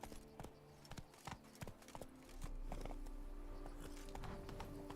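Horse Roach's hooves in Witcher 3 clop in an irregular rhythm of sharp, close hits, with a steady low rumble joining partway through.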